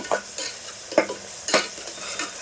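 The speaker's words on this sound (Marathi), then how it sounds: "ह्या परतून घ्यायचा फक्त मिनिटभरच मी परतून घेते" Spices and onions sautéing for chicken biryani, a close sizzle broken by three or four sharp scraping stirs of a spoon against the pan in a loose rhythm.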